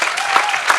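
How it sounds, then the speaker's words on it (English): A short burst of steady clapping from a crowd, fairly loud and continuous. "If everyone could give them a big round of applause,"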